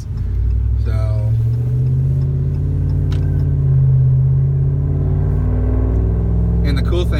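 Deep, steady rumble from the aftermarket exhaust of a 2017 Ram 1500 Big Horn, running loud and continuous, with a slight swell around the middle.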